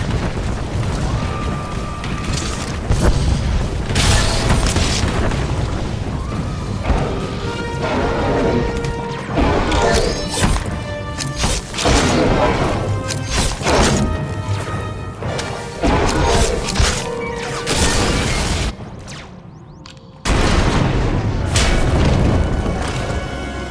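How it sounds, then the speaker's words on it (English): Explosions rock a collapsing tunnel in a Star Wars game, with heavy booms, crashing debris and rumbling impacts repeating loudly throughout, a brief near-silent gap, then another blast. "We heard explosions, the tunnel collapsed."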